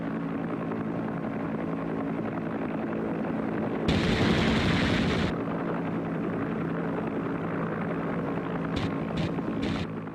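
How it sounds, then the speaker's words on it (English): Vietnam War battle audio from the Tet Offensive: steady loud rotor drone from American helicopter gunships, with a sudden heavy burst of gunfire or blasts midway and a few sharp cracks near the end, no talking. "the guerrillas were hammered by American helicopter gunships and fighter bombers"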